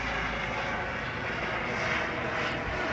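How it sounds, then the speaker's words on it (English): Helicopter passing overhead at the Clearfield County Fair, a steady broad engine and rotor drone at moderate loudness, fairly close and unbroken with no voices. "helicopter going over."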